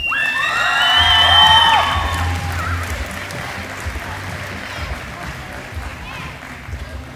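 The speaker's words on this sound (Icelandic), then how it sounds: "Við skulum gefa honum gott klapp." Applause and cheering from an awards-ceremony crowd honoring an Akranes footballer, swelling loudly for a couple of seconds and then settling into a softer, continuing clatter of clapping with a few shouts.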